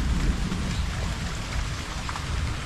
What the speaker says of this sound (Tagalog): Tapos may ulan naman mga kaprobinsya